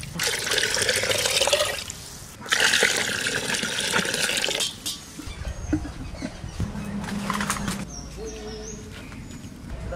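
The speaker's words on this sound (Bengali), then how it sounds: "এর মধ্যে এবার জল দিতে হবে" Water pours into a cooking pot for chicken soup, a loud rushing gush that stops and starts in a few bursts, followed by quieter dripping and splashing with faint background sounds.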